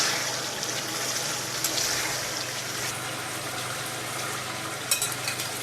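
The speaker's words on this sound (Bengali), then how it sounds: "আর একবার ভালো করে কষাবো, যত কষাবো ততই আমার রান্নাটা সুস্বাদু হবে।" Spice masala for a lentil dhoka dish sautés in a pan, giving a continuous loud sizzle with occasional stirring scrapes and no talking.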